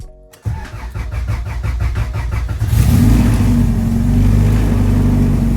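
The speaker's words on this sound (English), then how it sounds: "Oh, that fuel pump is struggling, dude." A turbocharged Honda Integra with a struggling fuel pump cranks in rapid, even pulses for a couple of seconds, then catches and settles into a loud, steady idle close by.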